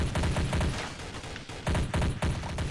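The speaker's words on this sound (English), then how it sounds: "Didn't expect the SMG to be able to do that much damage from there, but I guess some short controlled bursts do it quite well." SMG firing short controlled bursts in Counter-Strike: Source, several rapid clusters of sharp gunshots with a brief pause midway, close and loud, no talking.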